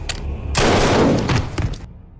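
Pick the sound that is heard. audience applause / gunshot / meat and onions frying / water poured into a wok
gunshot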